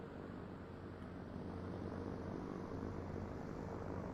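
A flight simulator game's airplane engine drones in a steady, dense hum that holds evenly throughout, with no talk over it.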